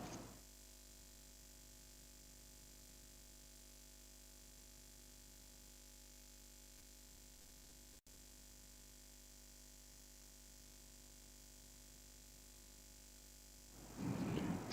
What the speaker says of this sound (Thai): เสียงพัดลมมันเข้าหน่อยเนาะ